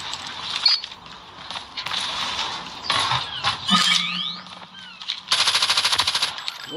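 Rapid bursts of close, loud automatic gunfire in a tournament video game, with sharp single shots and clattering effects between the volleys.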